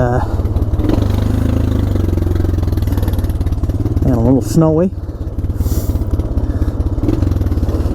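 Honda Foreman 400 ATV engine chugs in first gear on an icy trail, a loud, steady low pulsing that eases off slightly midway, with someone talking over it.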